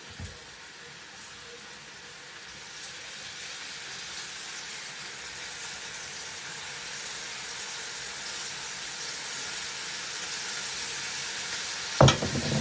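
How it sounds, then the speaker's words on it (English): Oxtail frying in oil in a pot gives a steady, close hiss and sizzle that builds slightly over time, with a single sharp knock near the end and no talking. "So I want to fry it with oil"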